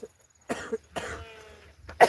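Three harsh coughs spaced about half a second apart, fairly close and loud, with a quiet pause between them and no talking.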